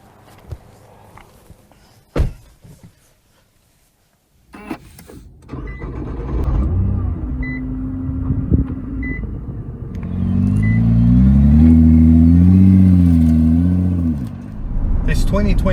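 A 2020 Nissan GT-R with 565 horsepower: door and footstep sounds, then the engine starts with a deep rumble that climbs into a rising, wavering roar as it pulls away, with brief talk early on.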